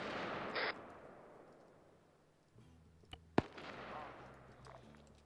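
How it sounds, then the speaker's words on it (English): A machine gun bunker fires in a military video game, sending a few sharp, distant shots over a low rumbling ambience, with one louder crack standing out near the end. "Yeah, it's a machine gun bunker."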